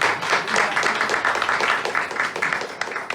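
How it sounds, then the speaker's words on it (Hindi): Loud, continuous clapping from an audience at a weekly meeting in Noida, a dense round of applause filling the whole stretch close to the microphone. "प्री डायमंड क्लब की थोड़ी सी लंबी ताली होनी चाहिए।"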